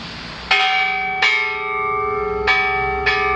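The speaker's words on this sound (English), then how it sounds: "So we are ringing the peace bell" A large peace bell in Hiroshima is struck four times, each deep metallic stroke ringing out clearly and decaying slowly into a long, sustained hum with no voices.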